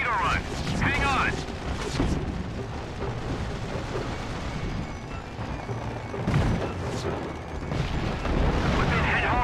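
Explosions boom as an aircraft carrier is hit in a World War II flight combat game at Midway, heavy rumbling blasts rolling over a sustained roar, with radio voices talking over the action.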